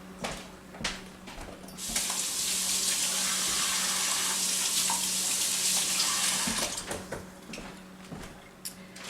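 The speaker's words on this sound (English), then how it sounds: "Let me wash my hands." Tap water runs steadily into a kitchen sink while hands are washed beneath it, a broad continuous hiss lasting several seconds with a few soft clatters before and after.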